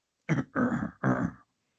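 Three rough, harsh throat-clearing bursts in quick succession, close and fairly loud, followed by silence.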